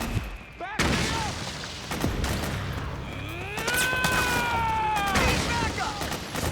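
Gunfire bursts in the PS3 video game Metal Gear Solid 4, sharp loud shots scattered through a busy battle scene, mixed with shouted voices and other game sounds.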